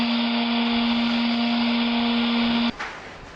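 A power sander runs during an off-grid, solar-powered adobe desert home build near Bisbee, Arizona, giving a loud, steady motor whine that cuts off abruptly near the end.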